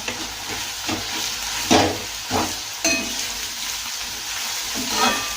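Chopped mustard greens hit hot oil in a pan and sizzle loudly and steadily, with several sharper bursts of frying and stirring scrapes as the leaves are tossed, with no talking.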